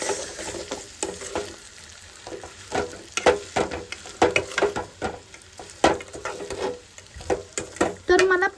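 Sabudana (sago pearls) stirred in a pan with a spoon, giving repeated scraping and tapping strokes at an uneven rhythm, close and fairly loud.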